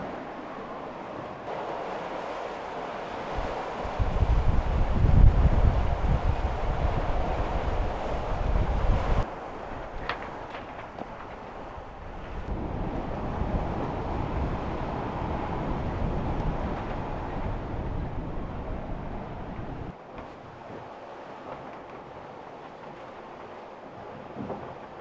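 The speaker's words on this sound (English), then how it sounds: "these are some big waves" Strong wind buffets the microphone while big ocean waves rush and surge around a sailboat on an open-sea passage to Tahiti, a steady roar that swells and eases with no talking.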